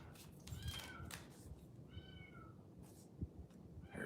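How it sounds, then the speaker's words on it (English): A cat meows twice, a rising cry early on and a longer, drawn-out one midway, both fairly soft and set against a low, steady background rumble with no talking. "There's the cat again."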